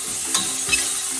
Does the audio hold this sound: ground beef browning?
yes